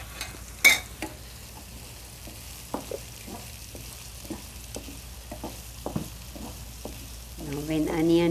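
Onions fry in a pan, making a soft, steady sizzle punctuated by occasional sharp clicks and stirring knocks, with a voice speaking briefly near the end.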